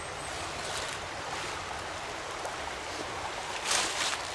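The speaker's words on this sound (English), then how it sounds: "This is the Babbling Brook." A babbling brook at a family campground in Elizaville, New York flows with a steady broadband rush, a brief louder splash near the end, with no voices.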